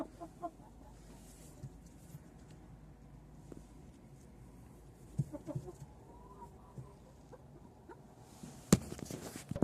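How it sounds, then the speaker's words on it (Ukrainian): Chickens cluck softly in an outdoor yard, with scattered short calls over a low background murmur and a couple of sharper knocks near the end. "там деякі кури ходять."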